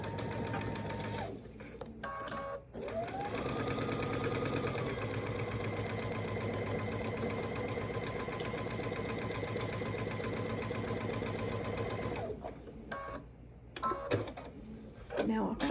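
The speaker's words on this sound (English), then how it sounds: "And then sew them." A sewing machine stitches quilt block pieces together with a steady, close mechanical whir for about ten seconds, then stops. Brief handling sounds come before and after.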